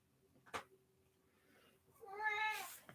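A cat gives a single drawn-out meow near the end, close and fairly clear, after a brief sharp sound early on over a quiet background.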